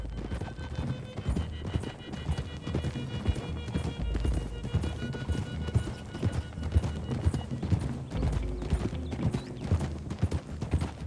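Horses gallop with rapid, steady clip-clopping hooves in the Western video game Red Dead Redemption 2, a dense rhythmic drumming layered over background game sound and occasional whinnies.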